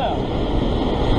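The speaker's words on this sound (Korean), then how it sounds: "어우, 파도." Ocean waves roll and wash loudly and continuously at a sea fishing spot on the coast near Sydney, Australia, a dense surf roar that fills the whole moment.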